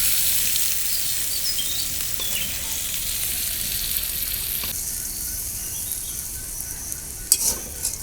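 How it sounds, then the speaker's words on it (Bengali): Garlic, green chilies and onions fry in a pan over an outdoor village stove, giving a steady broadband sizzle throughout with a few brief clinks and bursts near the end. "এখন হলো নামিয়ে ফেলে রসুন কাঁচামরিচ আর পেঁয়াজ ভেজে"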